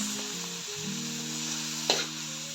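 Spices sauté in hot oil in a pan, a steady close sizzle and crackle that runs throughout with a faint tonal hum beneath and one brief clink of a utensil near the end.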